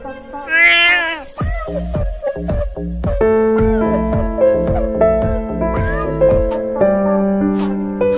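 A cat meows loudly in a high, wavering cry near the start, then a bright plucked melody with thumping beats carries on over it, the music dominating the rest without speech.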